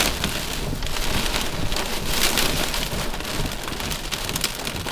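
Heavy rain and hail from a supercell thunderstorm near Santa Rosa, New Mexico pour down in a steady, dense hiss, loud and continuous throughout with no voices.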